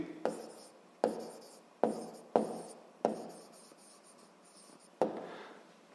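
A pen writes on paper during a seventh-grade physics lesson, in six or seven short bursts of scratchy strokes separated by brief pauses, close and fairly quiet.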